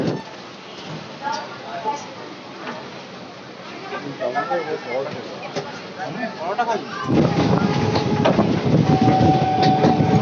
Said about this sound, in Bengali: বনগা ট্রেনটা ডান দিকে বেরিয়ে যাচ্ছে